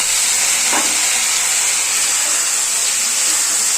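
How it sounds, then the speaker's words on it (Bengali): Steady, loud sizzling of potatoes frying in a pan with onion and garlic, a continuous hiss with a brief stir near the start, no voices. "এবারে আলু দিয়ে একটু ভাজা ভাজা করে তোমার মশলা দিয়ে দেবো"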